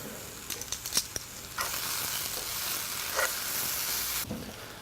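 Lemongrass paste gets stirred through a sizzling beef curry with pumpkin and cashew nuts, a continuous moderate sizzle broken by a few spoon clicks and scrapes, with no voices.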